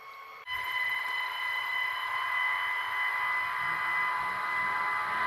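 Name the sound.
DC cooling fans starting up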